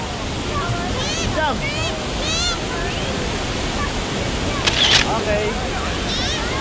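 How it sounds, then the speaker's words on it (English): Shihfen Waterfall in Taiwan roars as a broad, steady rush of falling water, with wind buffeting the microphone, excited voices talking over it and a brief chime midway. "Waterfall."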